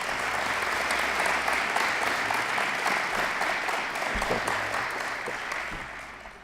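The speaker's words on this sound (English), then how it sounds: "So let's give them a big round of applause." Audience applause at the grand opening of a sports facility, a full, loud round of clapping from a crowd that holds steady and eases slightly toward the end.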